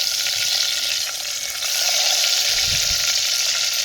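Boiled eggs soaked in tamarind juice fry with onions in a clay pot over a wood fire, giving a steady, loud, close sizzle with faint stirring scrapes.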